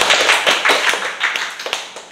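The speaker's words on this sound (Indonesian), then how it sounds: "Tepuk tangan dong" A small group claps at a consultant gathering, with brief, close, somewhat uneven bursts of hand claps that come in loose clusters and fade toward the end.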